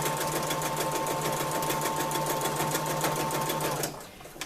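A sewing machine fitted with a strong needle stitches along a burlap banner, running in a fast, even, close-up mechanical chatter that stops abruptly just before the end.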